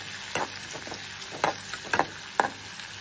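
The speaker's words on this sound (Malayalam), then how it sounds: "ഇനി അതിലേക്ക് വെളുത്തുള്ളി ഇട്ട് നന്നായിട്ട് മൂപ്പിക്കണം." Mustard seeds, shallots and garlic fry in hot coconut oil, giving a steady sizzle with a few sharp crackles and pops as the seeds burst, fairly close and with no talking.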